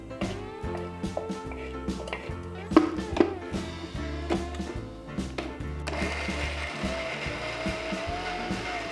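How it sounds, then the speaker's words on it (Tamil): A mixer grinder whirs and rattles as it grinds dried anchovies and onions, with rhythmic mechanical churning that steps up to a louder, steadier roar partway through. "ஆறினதுக்கப்புறம் இதை மிக்சியில் போட்டு"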